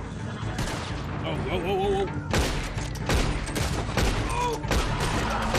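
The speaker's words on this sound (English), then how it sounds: "Was that you shooting?" Gunfire in Red Dead Redemption 2 during a roleplay session: a burst of several sharp shots cracks out in the second half, mixed with voices talking and an exclamation over the game's background.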